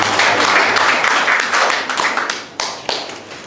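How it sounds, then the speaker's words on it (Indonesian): Church congregation clapping hands together during a sermon, a dense steady wash of applause that thins and fades toward the end, with a few sharper claps standing out. "Tepuk tangan buat Tuhan kita ini."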